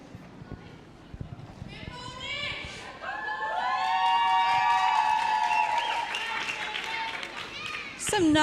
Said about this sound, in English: Some nice cheering here for Ponycat